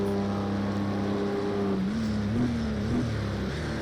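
Race car engine note under hard braking in the Project Cars video game on Xbox during a Le Mans 24 Hours session, a steady loud drone with a falling then wavering pitch as the car slows into a corner.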